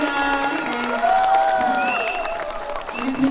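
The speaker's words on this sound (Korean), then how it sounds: "다시 한번 박수 주세요" Concert crowd applauding and cheering at a hometown community day celebration in Yeoncheon, a steady wash of clapping heard under a singer's voice.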